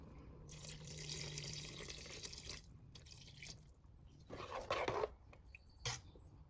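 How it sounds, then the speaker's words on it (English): Water runs from a tap and splashes into a pot of bread soup being made, a steady pouring rush with a few louder splashes and clinks near the end. "I'm going to add some more water."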